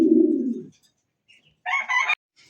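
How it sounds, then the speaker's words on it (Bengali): A pigeon, among fancy breeds such as Giribaz, Rajgolla and racers, gives a low throaty coo up close, then after a pause a higher, harsher call, with faint sounds between. "দেখেন কবুতর ডাক দেখছেন, হ্যাঁ সেই ডাক"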